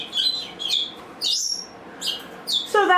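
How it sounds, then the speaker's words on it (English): Lost pet budgie outdoors chirping in short, bright bursts, several quick chirps repeating like a sparrow's call, fairly close and clear. "He's chirping. I think he's chirping like a sparrow."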